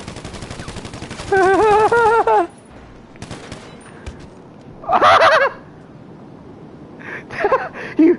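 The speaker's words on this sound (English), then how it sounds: "I can hear like laser gunshots" Bursts of rapid, buzzy warbling laser gunshots in GTA Online ring out in a few separate volleys, loud and close, with quieter rumbling noise between them.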